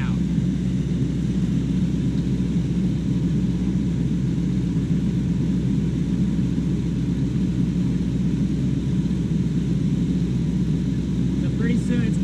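The R134a air conditioning compressor on a Chevy C10 runs under the hood, a steady low droning hum with engine rumble that holds constant throughout, near and fairly loud.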